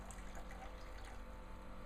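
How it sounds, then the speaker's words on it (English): Cold tap water overflows a tarantula's water dish, a faint, steady wash of running and trickling water that continues throughout. "cold tap water, just overflow the water dish"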